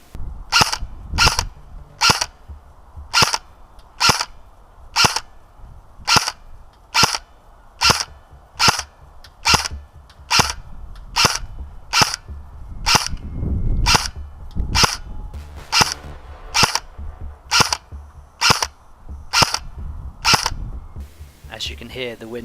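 A Specna Arms SA-H08 airsoft rifle firing 0.20 g BBs outdoors at a range, shot after shot in a steady rhythm of about twenty sharp, close snaps, with heavy wind buffeting rumbling underneath.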